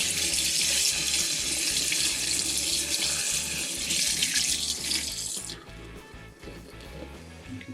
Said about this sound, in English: I'm going to keep that water flushing down